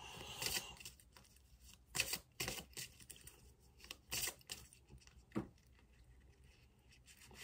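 Tarot oracle cards shuffled by hand, giving several brief papery riffles and flicks in irregular bursts, close and quiet, with no talking over them.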